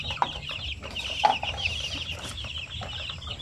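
Shamo Aseel chickens clucking alongside their five-day-old chicks, scattered soft clucks and brief chirps close by over a steady low farmyard background.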